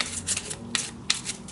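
Oracle cards for a tarot reading are shuffled by hand, giving a brisk papery riffling with a few sharper snaps, close and alone.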